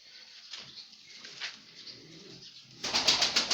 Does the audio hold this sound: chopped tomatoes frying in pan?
no